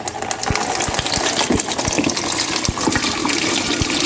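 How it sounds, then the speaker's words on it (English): Battery solution pours out of a battery into a bucket, a steady, close gushing splash of liquid with occasional glugging pulses, loud and continuous with no voices. "we remove our caps once again, and then we're going to dump the solution in our bucket"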